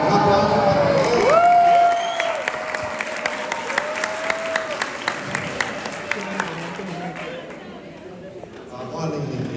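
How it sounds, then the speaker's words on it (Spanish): Students in a classroom clap for a classmate, a brief burst of lively applause with some cheering that fades into scattered claps and chatter. "Un aplauso para ella."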